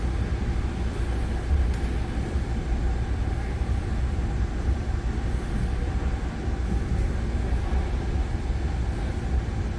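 Commuter train riding the exo Saint-Jérôme Line out of Lucien-L'Allier Station, heard from inside as a loud, steady rumble of wheels and cars that runs unbroken throughout with no talking.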